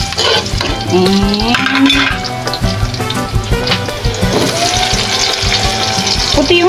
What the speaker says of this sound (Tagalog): Gisa na tayo ng ating sibuyas. Ay, sibuyas. Sorry, bawang pala.